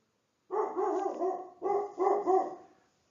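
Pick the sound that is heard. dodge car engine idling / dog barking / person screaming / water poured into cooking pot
dog barking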